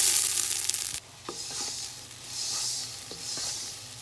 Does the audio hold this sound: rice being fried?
yes